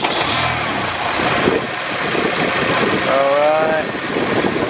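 Car engine revving in bursts as someone checks the engine mounts for movement, a mid-pitched running note with a rising whine near the end, heard under close talk.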